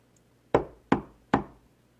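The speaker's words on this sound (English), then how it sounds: "There's a knock on the door." Three crisp knocks on a door in the visual novel game Steins;Gate, evenly spaced and close, each sharp rap decaying quickly into near silence.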